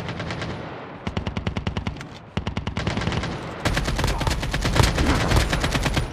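Automatic weapon fire in the mobile shooter Call of Duty Mobile, loud rapid bursts broken by short pauses, then a long sustained stream of shots to the end, with no talk.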